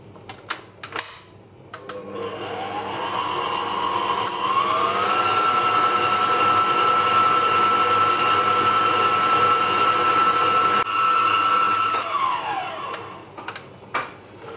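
Muffin batter of flour and baking powder beaten with an electric mixer, a steady whirring motor drone that runs for about ten seconds, with small clicks as it starts and stops.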